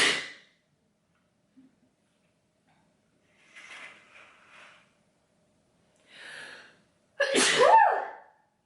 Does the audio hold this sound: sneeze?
yes